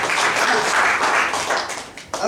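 A church congregation applauding, dense steady clapping from many hands filling the room, with some voices mixed in.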